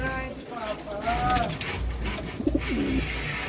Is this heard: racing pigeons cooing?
yes